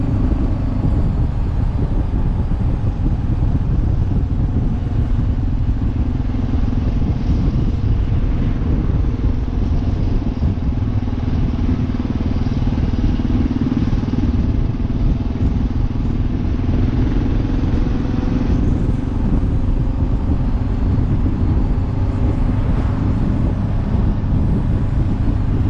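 Kawasaki KLR 650 single-cylinder motorcycle pulling steadily through the gears on a paved country road, a continuous loud, rough, tractor-like thump with slight pitch shifts between shifts, no talking.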